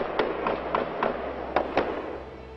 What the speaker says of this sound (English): Gunfire erupting as a gunman waiting and hiding picks off police officers